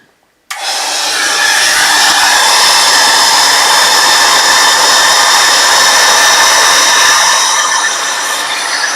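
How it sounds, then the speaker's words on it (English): A heat embossing tool bursts on and blows hot air in a loud, steady whooshing roar that holds for several seconds close by. "emboss it now. It will be a bit noisy"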